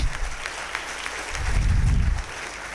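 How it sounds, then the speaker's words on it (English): Audience applause for the faculty at a university engineering induction program, steady dense clapping from a large hall with a low rumble building in the middle. "Let's together give a big round of applause to the entire faculty fraternity."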